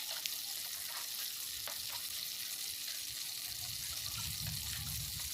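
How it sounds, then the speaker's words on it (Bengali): Chicken pakoras fry in a pan with a steady, even sizzle that holds throughout, soft and close with no one talking. "এভাবে আমি উল্টো পাল্টে সমস্ত চিকেনগুলোকে আমি ভেজে দিচ্ছি।"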